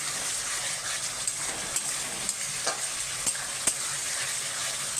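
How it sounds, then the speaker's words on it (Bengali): Spice paste with turmeric for a country chicken curry frying in a pan, a steady close hiss with several sharp scraping stirs of the spoon spaced through it, no voices. "আগে মশলাটা ভালোভাবে কষিয়ে নিতে হবে।"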